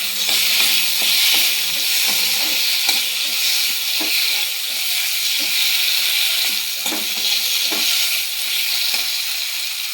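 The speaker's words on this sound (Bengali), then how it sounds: "ভেজে রাখা চুনো মাছ দিয়ে দেব। নেড়ে নেব।" Fried small fish stirred into a sour curry in a pan, along with fried mandar flowers: a loud, continuous sizzle and hiss, broken by repeated scraping strokes of a spoon against the pan.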